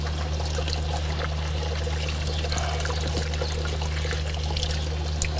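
Water poured on a surface during cleaning, a steady close trickle and splash running continuously over a low hum.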